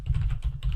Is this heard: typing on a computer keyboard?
yes